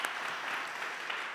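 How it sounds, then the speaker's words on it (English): Audience applause at a conference live podcast session, a steady wash of clapping from many hands lasting throughout, moderately loud and without any voices over it. "Let's give them a round of applause."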